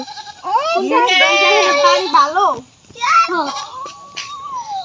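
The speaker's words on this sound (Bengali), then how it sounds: "ছাগল" Goat bleating in a village setting, a few drawn-out wavering cries close by, with a voice nearby.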